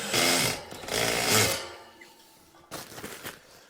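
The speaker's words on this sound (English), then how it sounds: "set the screws in, and then see how it falls down in place" A power driver sets screws into the box of a whole house fan in two loud whirring bursts. A quieter, shorter spin of the driver follows after a pause.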